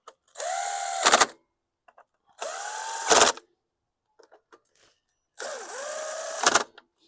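A power drill whirs in three separate bursts while servicing a 2018 Troy-Bilt TB210 walk-behind lawn mower, each about a second long with a rising whine and a brief rev at the end, separated by quiet gaps.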